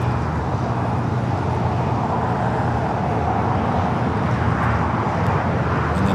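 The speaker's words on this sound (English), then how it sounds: "we got Air France flight 22 coming in from Paris" An Air France heavy jet arriving at LAX from Paris, a steady loud roar of engines that holds without letup throughout, with no voices over it.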